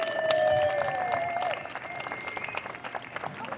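Audience applause for the children performing in the New York Mills Kalevala puppet pageant, a dense, steady patter of many hands that stays fairly loud throughout, with voices and cheers mixed in.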